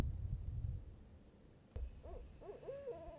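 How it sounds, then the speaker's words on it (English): A few soft barred owl hoots, low and wavering, heard at a distance in a quiet night setting after a brief rustle. "I've been hearing owls, and the owls will hoot, the barred owls."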